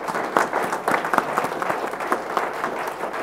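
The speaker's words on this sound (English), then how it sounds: "So please, another round of applause for everybody." Applause from the audience at a university data science day event, a steady, dense patter of many hands clapping at moderate loudness with no talk over it.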